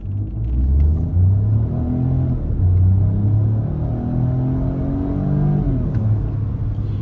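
A Peugeot 2008 PureTech petrol car accelerates hard through its gears, a loud continuous engine drone rising in pitch in repeated sweeps, with artificially enhanced engine sound inside the cabin and no talk.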